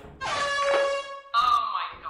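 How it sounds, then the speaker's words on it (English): Two loud blasts of an air horn in the video game Lethal Company, harsh and brassy, the first long and steady, the second a shorter, higher-pitched burst after a brief gap. "I have an air horn."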